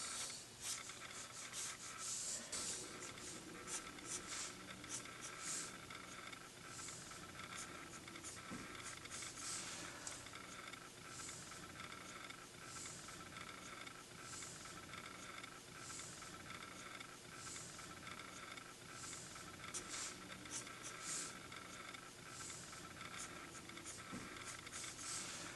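Colour is sketched onto a drawing of Ariel, a faint, steady rubbing and scratching of a drawing tool on the surface that carries on quietly and alone for the whole stretch.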